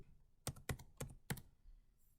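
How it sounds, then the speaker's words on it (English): Four crisp keystrokes on a computer keyboard as a part number is entered, spaced about a quarter second apart, close and fairly quiet with no voices. "Simply type your Liqui Moly part number into the search box and hit the search"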